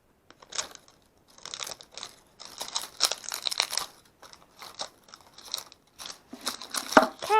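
Plastic packaging being cut open, with crinkly crunching and snipping in short irregular bursts separated by brief pauses, close and moderately loud with no talk.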